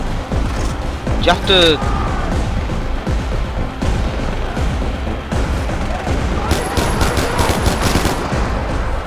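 Enemy gunfire in Far Cry 4, bursts of automatic shots and cracks layered over a steady noisy battle, loud and close throughout, with someone talking over it.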